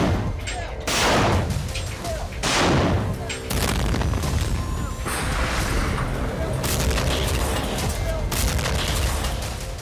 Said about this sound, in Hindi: डोनेट्स्क में रात के वक्त भी भारी गोलाबारी जारी है।